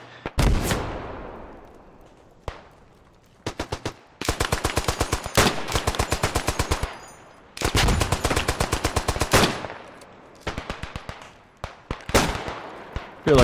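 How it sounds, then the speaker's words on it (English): Machine gun fire in the WW1 shooter Beyond the Wire: long, loud rapid bursts with heavy single shots and booming reports echoing between them. "look at all those cartridges coming off the machine gun"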